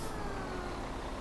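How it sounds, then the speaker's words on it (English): A BSM 950 truck engine in Farming Simulator 2017 drives along as a steady, loud, continuous mechanical drone with a broad hiss that holds constant throughout, with no talk. "So this is me kind of driving the big BSM truck right here."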